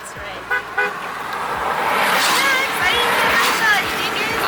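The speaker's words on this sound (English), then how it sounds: "I honked at the elk" A car horn gives short honks aimed at an elk on a roadside near Gold Beach, Oregon. Brief toots sound over road and engine noise while people talk inside the car.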